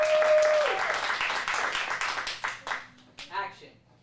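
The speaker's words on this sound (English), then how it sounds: "Let's give him a round of applause" A small group claps in a kids' acting class, the applause strongest at first and thinning into scattered claps, with voices and cheers mixed in toward the end.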